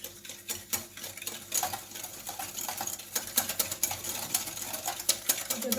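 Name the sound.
stirring pancake batter ingredients until the sugar dissolves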